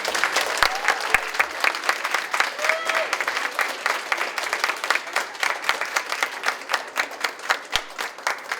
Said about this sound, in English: Nice round of applause for our graduates.